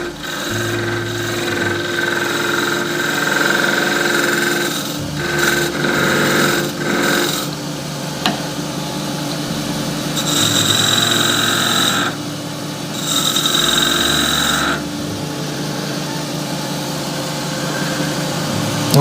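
A wooden shaving brush handle turning on a lathe while a spindle gouge with a secondary bevel cuts it, giving close, loud rasping cuts in uneven bursts over a constant motor drone, no talking.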